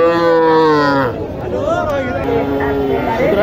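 Cattle low loudly and close by at a busy market for Sahiwal and local crossbred cows, with long drawn-out moos heard over a steady hum of crowd chatter and nearby voices.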